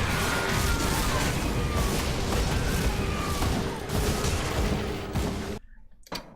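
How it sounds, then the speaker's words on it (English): Dense, loud explosions and crashing bursts fill the action in Grim Dawn: Forgotten Gods, a continuous barrage of impacts that cuts off abruptly near the end. "the explosions are slightly deafening me"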